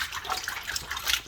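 Fish are washed off under running water in a kitchen, with a brief splashing, trickling rush of water and small irregular splatters across the moment.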